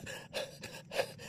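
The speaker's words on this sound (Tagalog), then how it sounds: "Ako hingal na." Heavy, ragged panting from someone out of breath, with several loud gasping breaths close to the ear and no talking.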